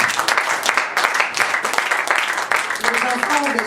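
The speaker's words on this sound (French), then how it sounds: "On acclame Jésus." A church congregation applauds during a Sunday worship service, rhythmic clapping mixed with voices and cheering, lively and close throughout.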